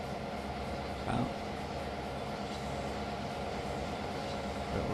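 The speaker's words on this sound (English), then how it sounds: "little look at our train rocking its way down the track" A tourist train in the Trainz video game rolls steadily along the track at about 15 mph, a low continuous rumble with faint rattling and a couple of brief swells.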